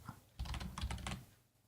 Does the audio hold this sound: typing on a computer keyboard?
yes